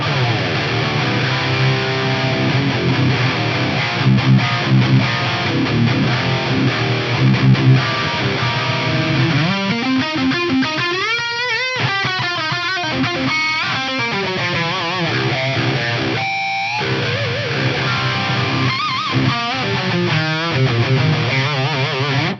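Heavily distorted electric guitar plays continuously, thick and loud, with chords and bending lead notes ringing out. No voices.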